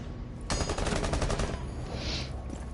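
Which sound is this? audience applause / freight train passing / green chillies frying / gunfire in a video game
gunfire in a video game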